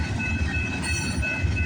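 A freight train from Montreal bound for Illinois passes on a railway in Ontario, a continuous close rumble of railcars with rhythmic wheel clatter and a faint high squeal.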